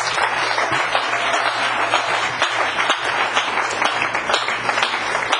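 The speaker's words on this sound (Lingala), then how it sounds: "Acclamez notre frère le Seigneur." A church congregation applauds during a sermon, a dense, steady patter of clapping from many hands filling the room for several seconds.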